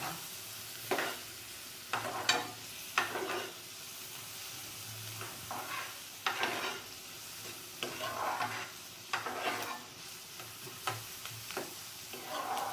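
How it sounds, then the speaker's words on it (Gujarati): Onion and green chili sautéing in a pan, a steady soft sizzle broken by repeated scraping stirs of a spoon at irregular intervals, close and moderately loud. "ડુંગળી અને મરચું સાતળી લઈશું।"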